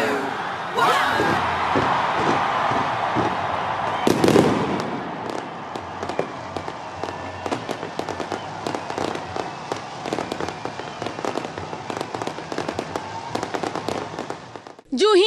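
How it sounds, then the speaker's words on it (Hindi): New Year's midnight fireworks over Auckland's Sky Tower crackle and bang in dense rapid bursts, with a big boom near the start, while a crowd cheers and shouts throughout, loud and close. "बुलंदोबाला स्काई टावर पर शानदार आतिशबाजी का आगाज कर दिया गया"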